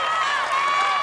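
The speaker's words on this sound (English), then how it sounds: "And the crowd sensing something special. They're going nuts." A dense arena crowd cheers and roars steadily at the American Ninja Warrior National Finals as a competitor takes on the wing nuts obstacle, a continuous loud wash of voices with no pauses.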